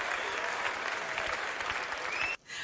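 A live stand-up comedy audience applauds during a George Carlin performance, steady dense clapping filling the room for over two seconds before cutting off abruptly.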